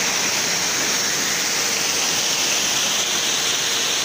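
Floodwater of the Kyll river rushing past near Mürlenbach in July 2021, a loud, unbroken roar of churning water, close and continuous with no voices over it.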